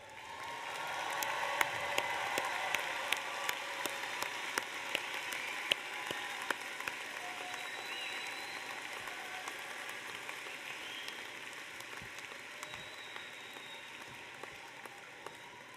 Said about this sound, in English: Can all the graduates please stand and give yourselves a round of applause